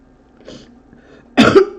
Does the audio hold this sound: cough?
yes